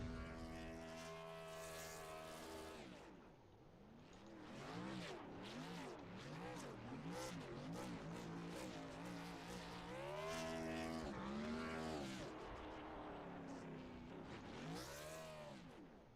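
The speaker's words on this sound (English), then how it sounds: "There's the burnouts we were waiting for." Race car engines roar and rev in a Gen Six Cup Series racing video game at Talladega Superspeedway, loud sustained buzzing with rising and falling pitch sweeps from repeated victory burnouts.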